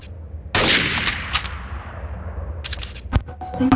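Gunshots in the game Trouble in Terrorist Town: a loud close shot with a ringing tail, then a few scattered shots and clatter over a low background hum.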